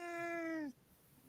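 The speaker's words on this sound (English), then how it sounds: "he's got a very deep meow." A male cat lets out one long, low, steady meow held for most of a second before it cuts off, close and clear with only faint room noise after.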